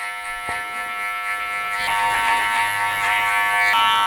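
Electric hair clipper buzzing steadily and loudly while cutting hair in a self-cut disconnected undercut, the guard opened to a 1.5, with a constant motor hum and brief rising textures as it passes through the hair.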